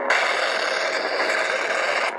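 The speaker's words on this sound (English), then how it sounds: "You have your blade lockup." Lightsaber blade-lockup effect from a Darth Maul sound font: a continuous loud crackling, scraping buzz of locked blades, sustained for about two seconds, then cut off abruptly.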